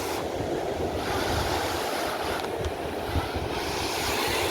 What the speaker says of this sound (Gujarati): આ બહુ મોટું મોજું આવે છે